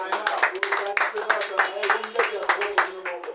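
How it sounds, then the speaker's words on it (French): A church congregation claps in a quick, steady run of sharp hand claps that fills the room, close and fairly loud, with a few voices under it. "Applaudissez pour vous-même."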